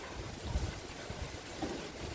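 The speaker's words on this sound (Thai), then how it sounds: "ลมอย่างเดียวบ่มีพายุ" Wind blowing without a storm, a low rumbling buffeting against the microphone with uneven gusty pulses, steady and fairly quiet, with no voices.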